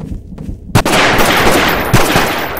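A loud burst of automatic gunfire in Garry's Mod starts abruptly after a brief quiet moment and continues as sustained rapid shots, with a couple of sharper cracks standing out.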